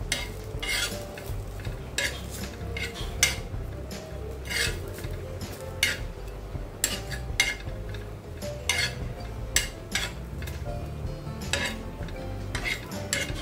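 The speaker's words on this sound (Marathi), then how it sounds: "खोबरं पण आपल्याला असं तांबूस अंगावरती भाजून घ्यायचंय. मस्तपैकी खमंग असं भाजून घ्यायचंय." A utensil stirs grated coconut as it dry-roasts in a pan for a prawn curry, giving steady, repeated scraping strokes against the metal with a faint sizzle underneath. The strokes are close and rhythmic, with no voices.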